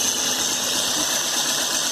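A car engine cranks and turns over during a fuel injector pulse test, giving a loud, steady mechanical whir with a bright high-pitched whine running through it, close up and continuous with no talk.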